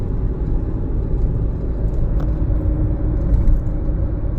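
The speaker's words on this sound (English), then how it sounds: "Giving it about half throttle." A 2014-2017 Jeep Patriot engine accelerates at half throttle, a steady low rumbling drone heard from inside the vehicle with constant road noise and no speech.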